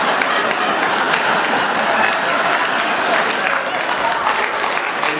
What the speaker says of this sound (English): You are clapping way too much for Dad, okay?